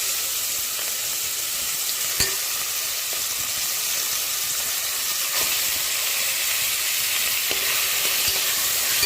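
Chicken with ginger-garlic paste sizzles steadily in a frying pan while being stirred, a continuous close frying hiss broken by a few sharp utensil scrapes and taps.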